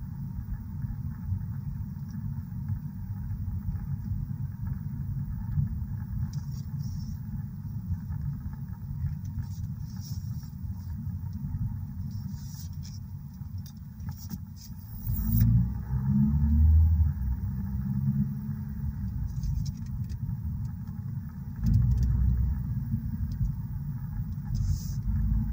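A car drives along a road in Western New York, heard from inside as a steady low rumble and road drone that swells louder partway through, with no clear talking.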